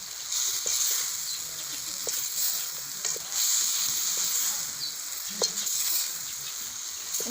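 Mixed vegetables with peas and capsicum sizzle steadily in a hot pan for noodles, with scraping stir strokes and clinks breaking through the constant frying hiss at close range.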